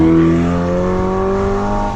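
A Ferrari Portofino convertible drives along back roads near San Francisco, its engine a loud, steady, smooth drone with a slowly climbing pitch, heard from inside the car with no talking.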